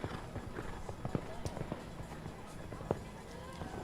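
Horse hooves thud at a show jumping Grand Prix, a few soft scattered hoofbeats and landing thumps at a distance beneath steady commentary speech.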